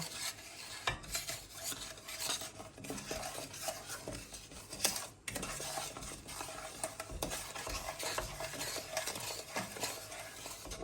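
A chocolate mixture being stirred in a pan over a medium gas flame, with steady scraping and stirring strokes running continuously at close range, no voices.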